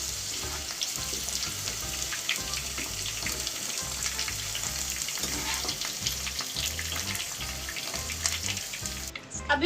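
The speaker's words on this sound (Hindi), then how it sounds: "ये देखिए अच्छे से भिंडी फ्राई हो गई।" Okra (bhindi, lady finger) frying in oil in a pan, a steady dense sizzle with crackling throughout, fairly close and continuous, without speech.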